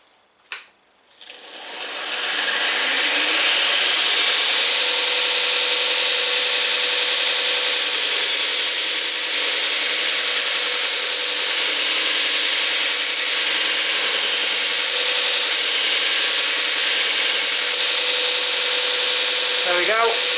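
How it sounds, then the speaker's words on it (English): A belt grinder running a 60 grit belt grinds a bevel into a blade, a loud steady abrasive roar that starts after a brief click and holds nearly unbroken for about eighteen seconds. "I've got a 60 grit belt on, and I'm just going to switch it on and start this bevel off"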